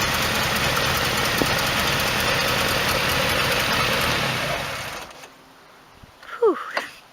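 A Nissan N13 Pulsar CA18DE engine idles rough with a slight miss and a leaking exhaust and manifold, a steady rumble for about five seconds before it shuts off, followed by a brief squeak.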